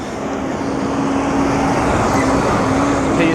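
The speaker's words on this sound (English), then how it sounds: "Careful, there's a truck coming." A truck rolls past on the road with a steady, loud broadband roar that builds slightly and holds for a few seconds, heard close by with a faint tonal engine hum and no talk over it.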